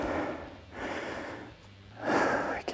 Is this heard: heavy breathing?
yes